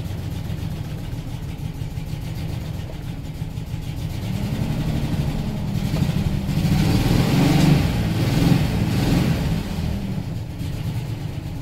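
A 2000 Chevy Silverado 1500 pickup engine runs steadily just after starting, a low rumbling idle that swells briefly as if revved, then settles, heard close with no talk.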